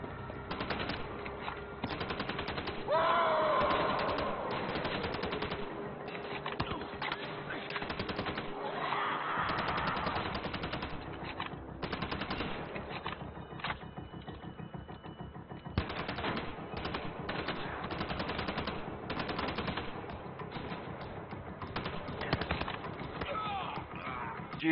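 Rapid automatic assault rifle fire in the video game Wolfenstein: The Old Blood, continuous loud bursts with clattering impacts throughout, while a player talks over the action.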